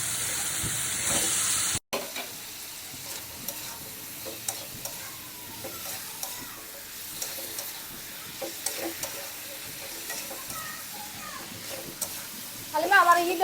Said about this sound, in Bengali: ডিমটা এবার ভেজে নিলাম